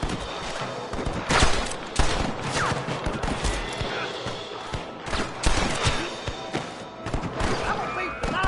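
Rapid, overlapping gunshots ring out in a shootout in the video game Red Dead Redemption, crowded volleys with heavy thuds over game ambience and shouting voices.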